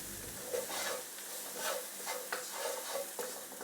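Pasta salad gets tossed and stirred with dried oregano in a bowl, a steady soft scraping and rustling with rhythmic swishes, close and fairly quiet, with no talking.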